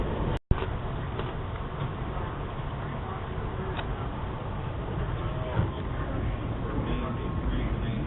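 Steady rumbling hum and rattle of a moving passenger train heard from inside the carriage, a constant mid-level drone with a sharp click near the start.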